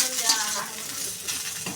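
Eggplant fries in a pan, a steady sizzling hiss with light stirring clinks, close and continuous, with no talking.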